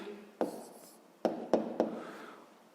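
A pen scratches an answer onto paper during a sixth-grade maths exercise, with four separate tapping strokes, the last three in quick succession, close and with no talking.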